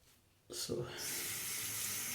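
A bathroom tap turns on and water runs steadily into a sink to wet the face before a shave with a Japanese razor, starting with a brief splash and then a constant close rush.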